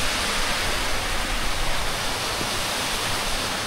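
Antong Falls pours continuously into a clear pool in a forest setting, a dense steady roar of rushing water with no pauses, close and loud, heard alone.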